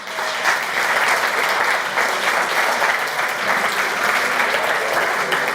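A school audience gives steady, dense applause that holds at the same level for the whole stretch, with no talk over it.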